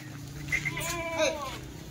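A male goat bleats twice in quick succession, wavering cries over a low background hum with faint murmuring.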